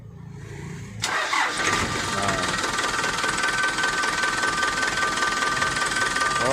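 A Toyota Dyna 130HT diesel engine cranks and catches abruptly after a brief voice, then settles into a loud, steady clattering idle close by.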